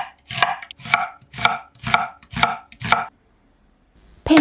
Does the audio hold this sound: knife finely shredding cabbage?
yes